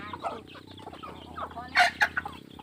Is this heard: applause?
no